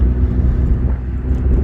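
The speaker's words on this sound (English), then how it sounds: "Oh, there's a huge truck coming." A huge truck rumbles past on a narrow country road, its loud low engine drone holding steady throughout with no voices over it.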